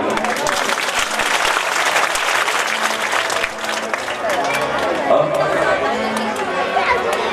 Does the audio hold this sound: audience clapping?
yes